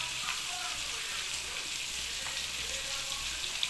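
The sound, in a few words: tomato, ginger, garlic, onion frying with spices in pan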